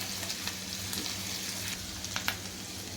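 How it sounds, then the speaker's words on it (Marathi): Finely chopped green chillies and a paste sauté in oil for egg curry. The hiss is continuous and even, with a few light spatters and stirring ticks, and no voices are heard. "दोन बारीक कापलेल्या हिरव्या मिरच्या दोन मिनटं हे आपण तेलावर थोडं परतून घ्यायचं"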